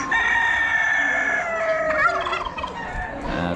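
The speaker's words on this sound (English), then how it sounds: "That's a bunch more roosters." A crowd of roosters at an Amish livestock auction crow in overlapping, drawn-out calls, one after another, loud and close with no break.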